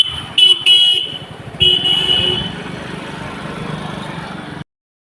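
A motor scooter arrives at a roadside water tap in Bangla Hayatpur, Batanagar, its engine puttering steadily close by with a few short horn toots near the start before the sound cuts off.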